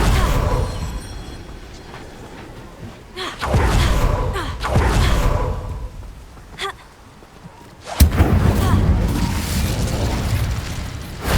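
Incendio fire spells are cast in Hogwarts Legacy, several loud bursts and whooshing flares of flame across the span, each swelling and fading, with a sharp heavy impact near the end followed by sustained crackling roar.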